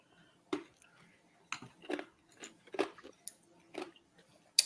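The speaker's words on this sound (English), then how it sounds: "I was chewing on ice." Ice being chewed, a string of irregular crisp crunches close to the microphone, fairly quiet, with a brief breath or mouth sound between bites.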